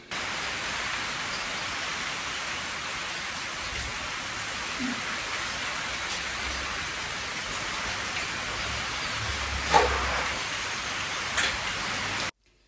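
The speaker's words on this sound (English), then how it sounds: "It started raining heavily" Heavy rain pours steadily as a dense, continuous hiss, with a couple of brief louder knocks late on.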